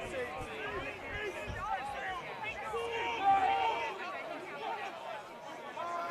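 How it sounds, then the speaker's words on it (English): A large crowd at a Durham vs Nottingham men's BUCS Super Rugby match fills the air with steady, dense chatter and babble, a continuous hubbub with a brief swell near the middle. "Cracking crowd building up here though."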